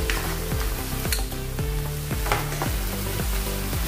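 Rice, dal and fried curry leaves are stirred together in a pot for pongal khichdi, giving a continuous sizzle with rhythmic stirring sounds and no voices.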